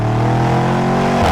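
A 2025 Bentley Bentayga Speed, a 2.5-ton luxury SUV, pulls hard under acceleration with a loud, steady engine note that rises, then shifts briefly near the end.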